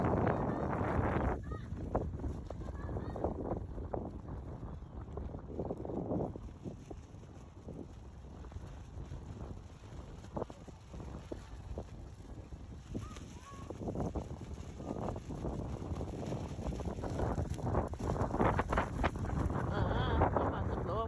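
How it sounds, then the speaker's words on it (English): Steady wind blows across an open park on a gusty day with kites overhead, a continuous broadband rush with strong low rumble and microphone buffeting that swells louder toward the end, with occasional distant honks beneath it. "King, you tired of this wind blowing on you, babes?"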